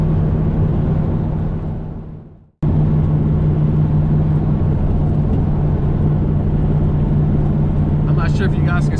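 Pontiac Trans Am WS6 Formula cruising at highway speed, a steady loud engine and road drone inside the cabin that briefly fades out, then resumes at full level, with someone speaking over it.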